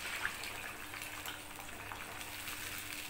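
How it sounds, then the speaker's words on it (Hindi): Water poured from a cup into a cooking pan holding chili sauce and chili garlic tomato ketchup for chicken Manchurian gravy, a steady broadband splashing, hissing pour lasting throughout, close and fairly loud with no talk. "अब इसमें जाएगा 1 कप पानी"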